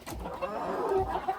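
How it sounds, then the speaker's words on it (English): A rooster and hens on a homestead give soft, close clucks and low murmurs in a brief, quiet moment. "Here's one of our roosters."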